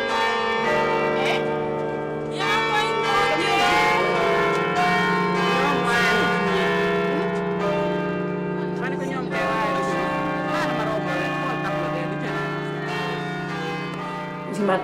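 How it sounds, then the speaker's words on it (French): The bell of Notre-Dame cathedral ringing with long sustained metallic tones that sound loud and continuous, overlapping into a dense resonant wash throughout. "Je ne pensais pas un jour que j'allais voir la cloche de Notre-Dame de mes yeux. Et je l'ai vue, elle a sonné."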